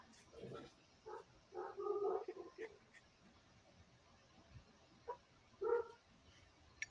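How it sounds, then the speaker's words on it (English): A dog barks somewhere off in the distance, several faint, muffled woofs in a couple of short bursts with quiet stretches between them. "Can you hear Charlie? I can hear him"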